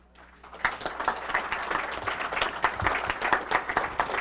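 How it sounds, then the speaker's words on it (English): Audience applause fills the room at a technical school Letter of Intent signing day ceremony, a steady dense clapping that starts after a brief quiet moment and carries on loudly throughout. "Let's have another round of applause for Dean Coco"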